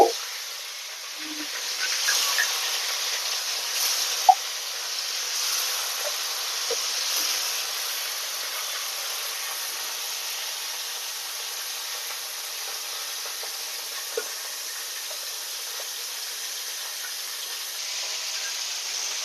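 Bata fish frying in oil gives a steady, even sizzling hiss that runs throughout, with a few faint pops and clicks scattered through it and no one speaking.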